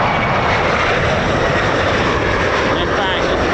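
F-15 or F-35 fighter jet engine roaring loud and steady at close range at RAF Lakenheath, a constant dense broadband rush with no breaks, with voices talking over it.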